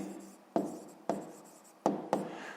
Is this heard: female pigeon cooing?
no